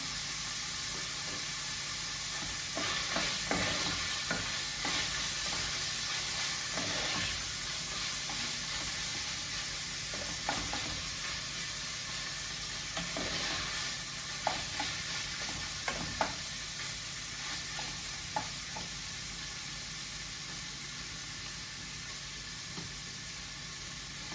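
Diced meat fries in a little oil, a continuous close sizzle and hiss broken by repeated scraping and knocking as a utensil stirs the pan.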